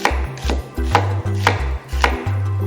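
Knife chopping onions julienne-style on a cutting board: a steady series of crisp, close thuds and slices, about seven strokes in under three seconds, with no talking.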